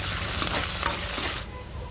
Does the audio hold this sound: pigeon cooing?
no